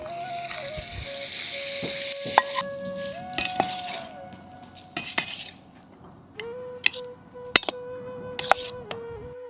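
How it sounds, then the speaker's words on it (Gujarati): Tempering poured over puliyogare tamarind rice, with clattering pans and utensil clinks, scrapes and brief sizzling bursts across the clip, some tonal whistle-like hums in the background. "ઉપર વઘાર ઉમેરી દઈએ"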